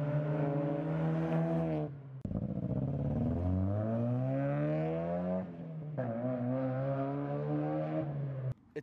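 Loud, throaty aftermarket exhaust on a Mazda Miata droning steadily while driving, pitch rising and falling as the engine revs up and shifts, with brief drops between.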